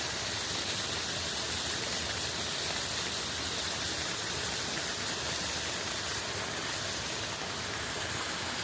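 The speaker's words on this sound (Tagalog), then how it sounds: "Nagpapaapaw sila ng tubig." Released water overflows from a NAWASA facility during heavy rain in Antipolo, producing a loud, constant broadband roar of rushing water and rainfall that stays steady from start to finish without any talking.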